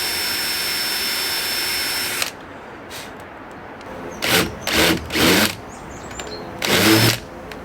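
A power drill bores pilot holes for big screws during a cabin rebuild reassembly: a steady whine runs at first, then several short loud whirring bursts follow one after another, close by.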